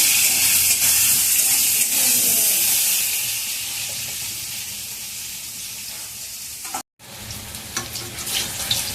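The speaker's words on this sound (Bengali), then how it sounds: "বেগুনগুলোতে একটু হলুদ দিয়ে দিয়েছি। এবার এটাকেও আমি একটু লাল করে ভেজে নেব।" Brinjal (eggplant) pieces coated with turmeric fry in hot oil, a steady loud sizzle and hiss close by that briefly cuts out near the end, then resumes with small crackles.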